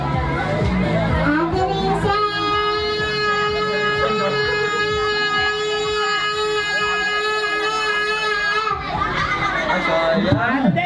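A group of children shout together on cue in one loud, sustained cry that holds for several seconds and then breaks into scattered voices.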